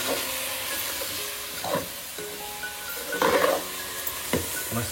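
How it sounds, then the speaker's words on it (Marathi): Jackfruit vegetable stir-frying in a pan over a wood-fired stove with a garlic and curry-leaf tempering: a steady close sizzle, broken by a few louder scraping stirs, with no talking. "5 मिनिटं परतत राहायची भाजी"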